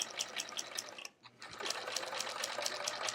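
A sewing machine with a walking foot quilting with metallic thread, a fast steady stitching rattle close by that pauses briefly near the middle before running on evenly.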